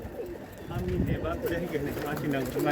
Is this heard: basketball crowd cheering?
no